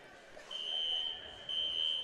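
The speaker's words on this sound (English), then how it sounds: "this beeping sound is coming through the headset" A thin, high electronic beep sounds twice in a row through a broadcast headset at a basketball game, each tone held for about a second, over a faint background hiss.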